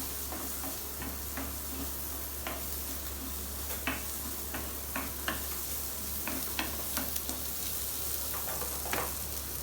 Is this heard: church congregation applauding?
no